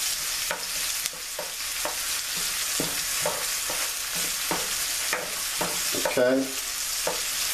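Onions frying in a pan for home fries, a steady sizzle broken by repeated scraping stir strokes at a regular rhythm, close and fairly loud, with one brief spoken word near the end.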